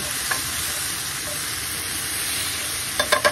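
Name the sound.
stirring potato, corn and diced tomatoes in a pan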